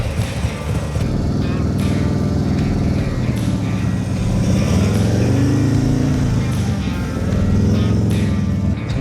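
A practice motorcycle engine drones continuously as the rider works the throttle, the pitch rising and falling through turns, while a person talks over it.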